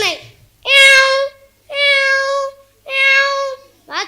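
A voice at a school competition imitates a cat, giving three drawn-out, clear meows with short pauses between them and the start of a fourth, close and loud with no other background.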